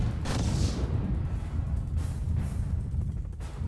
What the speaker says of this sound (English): They're shooting missiles at me.